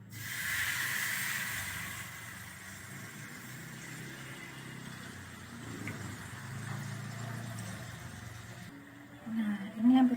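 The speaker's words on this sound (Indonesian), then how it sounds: "ini minyaknya sudah panas, akan kita goreng ya guys" Rempeyek batter frying in hot oil, a continuous broad hiss and sizzle that holds steady for several seconds, fairly loud and close, with a brief low bump near the end.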